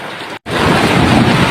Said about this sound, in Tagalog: napakalakas ng ulan, lakas pa ng mga kulog at kidlat